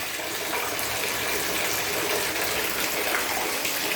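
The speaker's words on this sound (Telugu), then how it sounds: "వర్షం అయితే బాగా పడుతుంది చూస్తున్నారు కదా మా ఇంట్లో వాటర్ కూడా వచ్చినాయి" Heavy rain flooding a village house, with water filling the rooms deeply enough to float a bucket; a steady, dense rush of water fills the whole clip at even loudness, with no voices.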